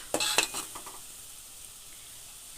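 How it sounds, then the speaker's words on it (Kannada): Homemade hair oil bubbles in a pan, with a few brief clinks and stirring scrapes at the start, then a faint steady sizzle and one more clink at the close. "ಇದು ಎಣ್ಣೆ ಕುದಿತಾ ಐತೆ"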